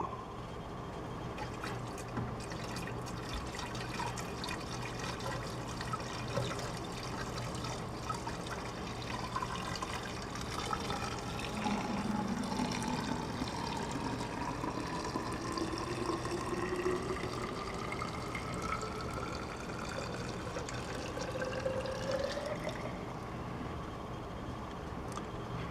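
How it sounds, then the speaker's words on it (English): Windshield washer fluid pours into the reservoir under the hood of a 2014 Chevy Silverado, a steady trickling stream whose pitch rises as the tank fills, continuous for about twenty seconds with no talk. "Take some windshield wiper fluid and top that up."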